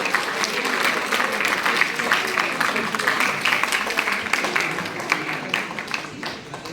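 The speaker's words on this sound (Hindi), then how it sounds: "हाथ आपके खामोश नहीं रहने चाहिए, जोरदार तालियां बजाते रहिए।" Dense, sustained applause from a crowd of schoolchildren at a public awareness event at a Kendriya Vidyalaya school in Shimla, many hands clapping steadily at close range with a lively, uneven rhythm throughout.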